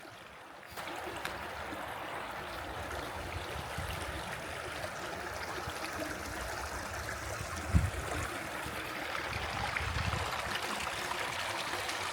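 A small brook flows through a forest in the Czech countryside, a steady close rush and trickle of water with no break, and a single brief knock partway through.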